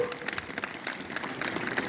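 An audience at a talk by a retired Indian Army major general clapping in a brief, steady patter of many hands, fairly close and even.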